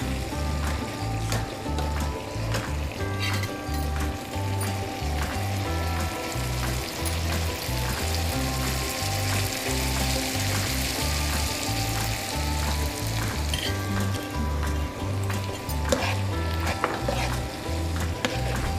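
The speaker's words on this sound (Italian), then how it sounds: "Amalgamiamo per bene il tutto facendolo saltare un po' in padella con tutti gli ingredienti." Busiate pasta with mackerel and toasted almonds is tossed in a pan, making a steady, moderate sizzle over a low rhythmic hum that continues without pause.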